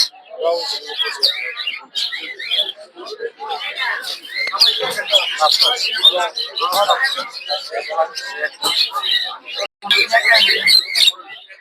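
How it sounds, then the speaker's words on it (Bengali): Lovebird chicks chirp at a busy livestock and bird market in Narsingdi, a dense, continuous chorus of thin high peeps close by, mixed with someone talking. "এগুলো হচ্ছে লাভবাটের বাচ্চা"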